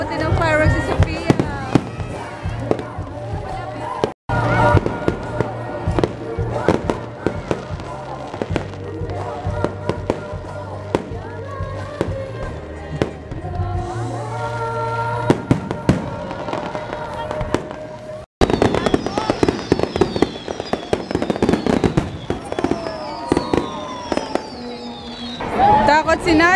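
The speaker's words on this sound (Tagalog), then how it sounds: "Nakaabot din ng fireworks si Sophia." Fireworks explode over and over in sharp loud bangs and crackles through a long stretch, with people talking throughout and short gaps between bursts.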